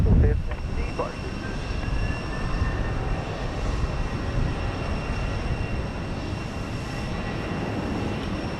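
A United Boeing 737-900 airliner at Houston Intercontinental produces a steady broadband jet roar with a thin high whine, sustained and fairly distant throughout.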